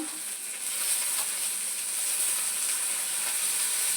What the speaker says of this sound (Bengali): ছোট ছোট করে পেঁয়াজ কেটেছি, সেটা দিয়ে দিলাম। কাঁচা লঙ্কা চেরা 4টে দিয়ে দিলাম